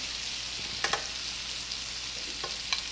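Pre-cooked blackened shrimp frying in a pan, a soft steady sizzle with a few brief clatters and scrapes as the pieces are turned.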